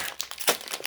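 A plastic baking chips bag for chocolate mint stevia-sweetened chips crinkles and crackles close up as it is pulled and torn open in one short burst.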